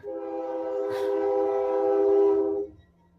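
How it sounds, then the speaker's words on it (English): A train passes outside a home during a live stream of an MTG Arena draft, its horn sounding a sustained loud tonal blare for over two seconds before cutting off, with rumbling underneath. "All right, got the train coming."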